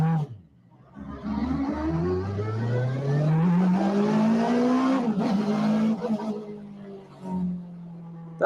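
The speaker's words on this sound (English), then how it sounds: "Just put a motorbike engine into the car. It sounds fucking crazy." A high-pitched motorbike engine fitted in a car, in a video game, revs up steadily, whining higher and louder as it accelerates, then eases off briefly before holding a raised pitch.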